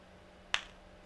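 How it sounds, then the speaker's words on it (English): One sharp hand clap on a recorded solo track, a single crisp snap-like hit in near silence with a tiny click just after. "the first thing that you'll hear on this solo track is actually a hand clap"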